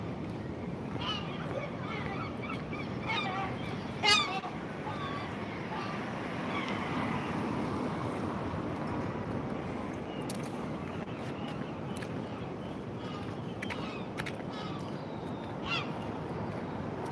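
Gulls calling and cawing beside the sea near a rebuilt sea wall, several harsh cries scattered over steady wind and surf noise, with people talking faintly in the background.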